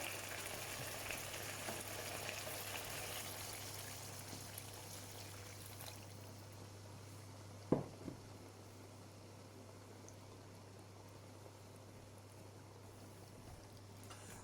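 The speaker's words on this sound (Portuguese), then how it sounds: "Está na altura de acrescentarmos um pouco mais de água." Water poured into a simmering home-cooked stew: a steady hissing pour and bubbling for about six seconds, then a quieter continuous simmer with one brief clink midway, close and low in level.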